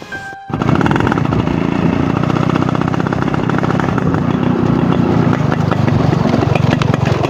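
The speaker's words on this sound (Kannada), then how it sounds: "ಇಲ್ಲೊಂದು ಬೈಕ್ ಬಂತು" A motorcycle on a road in rural Karnataka pulls up close and loud after a brief silence, its engine running as a steady, rough, continuous drone for several seconds with no talking over it.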